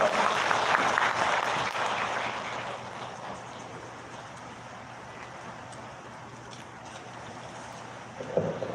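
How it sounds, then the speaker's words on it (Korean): Audience applause at a Korean senior job program participants' rally breaks out loud and dense, then thins and fades over several seconds into a low murmur of the hall. "박수 한번 부탁드리겠습니다."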